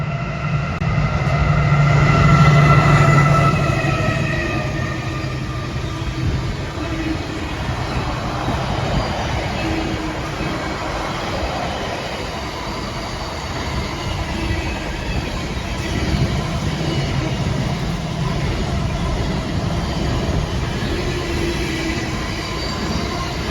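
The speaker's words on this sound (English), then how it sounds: "I think there's a freight train due in a minute as well." A heavy freight train rumbles past, with a steady low roar and grinding rail and wheel noise that swells early and then holds.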